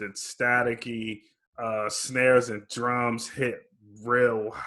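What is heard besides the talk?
No everyday noise stands out behind the speech.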